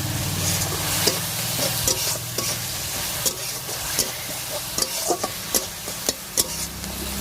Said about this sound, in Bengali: এবার মশলাটা কষিয়ে আসুক একেবারে